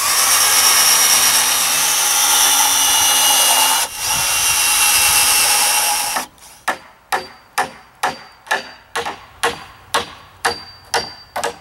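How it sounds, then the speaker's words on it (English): A power drill runs continuously while pre-drilling holes in the ends of wood deck joists, a loud whine that breaks off and is followed by a steady series of sharp hammer strikes on wood, close and alone. "Now I like to pre-drill on the ends."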